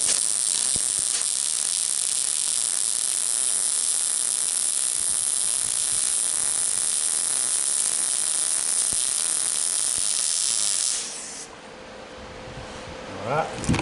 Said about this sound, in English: Now I'm going to weld this part here.